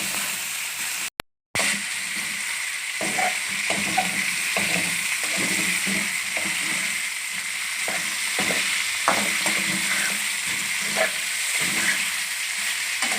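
Chicken pieces frying in a karahi for charsi karahi, loud continuous sizzling and hiss close up, with scattered clinks and scrapes of stirring and a brief cut near the start.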